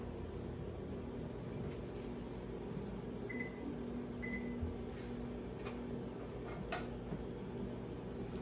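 A steady low mechanical hum of a running microwave oven fills the room, with a couple of faint short beeps partway through and no talking.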